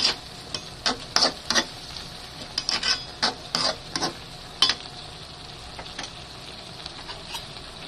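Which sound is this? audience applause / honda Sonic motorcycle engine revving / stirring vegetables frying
stirring vegetables frying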